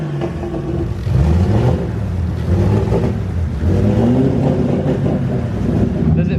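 A turbocharged car engine revs steadily and loudly, with its exhaust leak just repaired. The engine drone rises and falls in pitch as the RPMs climb, continuous and close.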